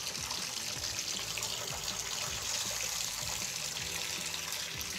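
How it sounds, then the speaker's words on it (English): Water runs steadily from a Delta shower tap turned fully on to hot, a constant close hiss and splash with no pauses. "We're gonna turn the water all the way on."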